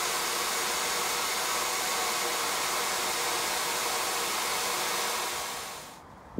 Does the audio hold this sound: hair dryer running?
yes